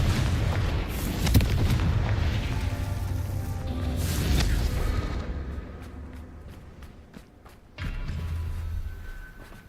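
Confringo fire spells in the Hogwarts Legacy video game set off heavy booming explosions, several deep blasts with rumbling tails, then a rapid series of sharp crackling pops before another low rumble.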